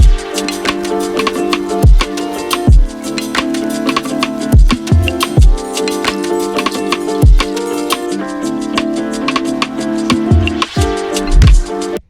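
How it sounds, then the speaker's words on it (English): A looping keys melody plays with sustained chords, punctuated by regular deep bass thumps, repeating throughout in a steady beat. "the next thing I put down was this like keys loop."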